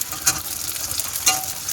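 Green beans hit hot oil with fried onions in a wok, giving a loud continuous sizzle with sharp scraping stirs of the spatula at regular moments.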